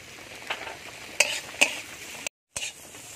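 Salt, turmeric, chili, cumin and coriander powders sautéed with a little water in a pan, a continuous sizzle broken by a few scraping stirs and a brief silent gap.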